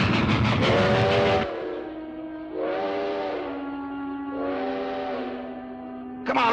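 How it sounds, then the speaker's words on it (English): A train in a 1950s Western drama: a rumbling, rolling passage gives way to three long, wailing whistle blasts in a row, loud and fairly close, with no talk. "We gotta flag down a train."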